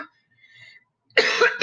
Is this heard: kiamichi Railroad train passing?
no